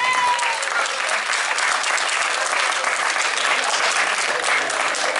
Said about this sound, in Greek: Πάμε ένα πολύ μεγάλο χειροκρότημα για τον Πέτρο Τσελεπίδη.